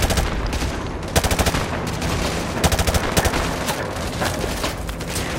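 Dense gunfire in Call of Duty Modern Warfare 2 Remastered, loud overlapping rifle bursts and rapid machine-gun rattles continuing without pause throughout a close-quarters firefight.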